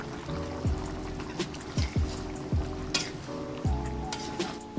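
Betawi-style jengkol stew bubbling in a pan, thick bursts and pops recurring roughly every second over a steady simmering hiss, close and moderately loud.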